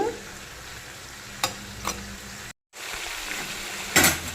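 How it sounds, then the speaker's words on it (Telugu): Ginger garlic paste frying in a pan, a low steady sizzle with a couple of sharp spoon taps, a brief dropout, then a louder scrape near the end, close and fairly quiet, with no speech. "ఈ టైంలో అల్లం వెల్లుల్లి పేస్ట్ వేయాలి"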